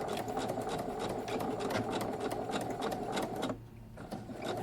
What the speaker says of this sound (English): back stitch all the way across the webbing so it's nice and secure